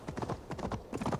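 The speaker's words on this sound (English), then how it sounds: "Just driving the horse." Horse hooves clip-clopping as a rider travels a mountain path in Assassin's Creed Valhalla, a crisp rhythmic series of hoof strikes in quick groups, close and clear with no talking.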